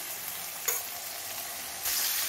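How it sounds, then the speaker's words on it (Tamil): Crushed garlic and onions sizzle steadily in a hot pan while being sautéed, a continuous close frying hiss with a brief clatter of stirring partway through. "சேர்த்துட்டு நல்லா வதக்கலாம்."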